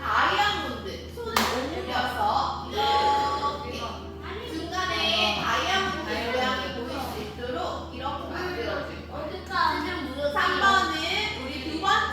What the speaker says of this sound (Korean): 두 손을 모아서 박수치기